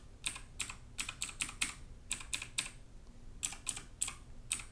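Keys clicking on a MOTOSPEED Inflictor CK104 mechanical RGB keyboard: close, crisp presses in quick bursts separated by short pauses, with no voices.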